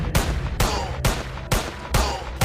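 Five rapid, loud bursts of sniper fire aimed at aliens in an Indian bike video game, each shot sharp and evenly spaced about half a second apart with a brief ring-out between.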